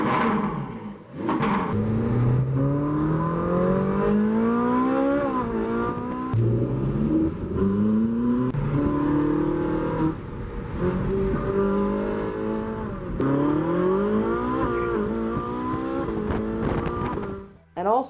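Ferrari 458 Spider with the roof down revs hard, its engine roaring in loud rising sweeps that climb, drop back and climb again through repeated gear runs, continuous and close for most of the stretch.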